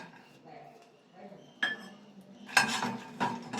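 Fried makhana tossed with salt, chilli, coriander powder and turmeric in a pan, heard as sparse clinks and scrapes of a spoon against metal that grow louder toward the end, over faint background murmur.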